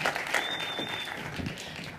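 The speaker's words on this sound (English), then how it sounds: "Round of applause for these guys." Audience applause at a tech panel event as guests are called up on stage; brisk crowd clapping throughout, with a faint tonal whine running through the middle.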